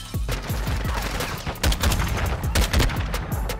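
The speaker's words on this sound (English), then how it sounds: "Bro, this is exactly how a battle rifle should sound like." Rapid, loud gunfire from the Lockman battle rifle in the Modern Warfare video game, with dense overlapping shots that fill the whole stretch without pause.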